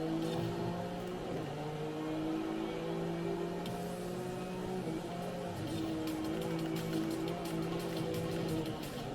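Car engine in Forza Horizon 5 downshifting, a steady droning engine tone that drops and climbs in pitch across gear changes, with a faint rattling texture in the latter half.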